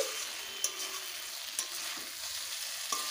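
Taro stolons (kochur loti) stir-fried in a pan, with a steady close sizzle and a few sharp clicks of a spatula scraping and stirring, no talking.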